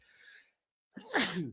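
A single close, sharp human sneeze, preceded by a brief soft inhale and a moment of silence, heard alone in a quiet room.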